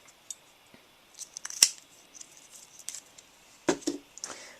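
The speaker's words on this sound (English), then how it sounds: "I'm going to take a 1/2 inch circle punch" A 1/2 inch circle punch cuts a small disc from paper, giving a couple of sharp, quiet crunching clicks with soft handling rustle in between, recorded close in a quiet room.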